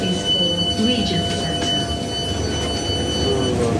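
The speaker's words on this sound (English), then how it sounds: "The train standing at platform 2 is for Regent" A metro train waits at a station platform on a northeast England metro line, with a steady rail and platform hum carrying faint high squeals and tones, while a public announcement and nearby talk sit over the constant noise.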